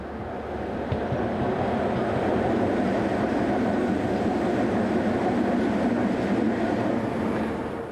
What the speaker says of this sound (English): We move to the south of Ruskov station as a pair of broad gauge Class 125 twin unit locos